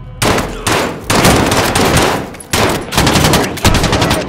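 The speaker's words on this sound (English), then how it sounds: "He's just getting used to gun shooting." Gunfire in Modern Warfare Remastered, several loud close bursts of rapid shots separated by brief pauses, with echoing tails and no voices.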